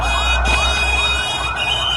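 A fire brigade vehicle's siren wails with a steady, close, loud rising-and-falling tone as the truck heads to a blaze that has burned several homes, over a low rumble of road and traffic noise.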